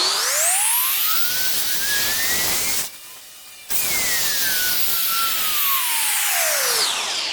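Power sander flattening a resin-filled kitchen benchtop, a steady loud whining hiss held close, cutting out briefly near the middle and then running on evenly.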